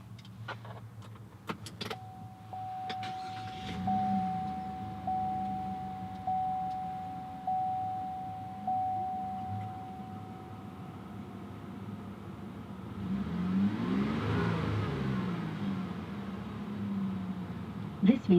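A 2017 Chevrolet Colorado ZR2 cranks and settles into an idle, then gives a long swelling rev near the end, with a chime pulsing in the cabin and a voice talking over part of it.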